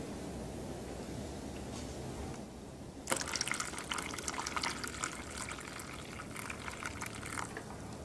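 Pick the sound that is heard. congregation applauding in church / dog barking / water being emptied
water being emptied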